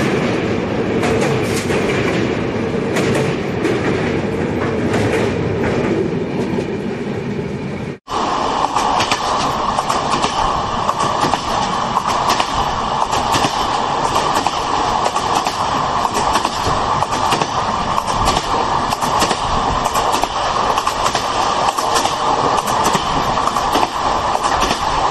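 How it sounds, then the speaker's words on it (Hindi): The Jnaneshwari Express, the 12102 Super Deluxe, runs through Raigarh railway station at speed. A loud, steady rumble and clickety-clack of wheels fills the whole stretch, with a brief break near the start before the roar resumes. "अब इंतज़ार था कब हमारी Dnyaneshwari express Raigarh railway station को जोरदार स्पीड"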